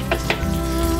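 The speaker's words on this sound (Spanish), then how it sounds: "Cuando el agua esté hirviendo, agregamos nuestra semilla de aguacate." Chopped avocado seeds drop into a pot of boiling water for a homemade natural insecticide, giving a couple of brief splashes over a steady, close bubbling and sizzling churn.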